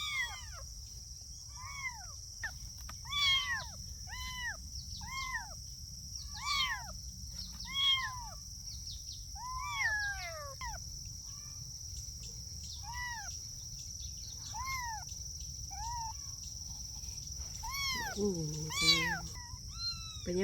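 Two abandoned kittens meow over and over in short, high, rising-falling cries, fairly close, over a steady low hum and a constant high insect-like whine.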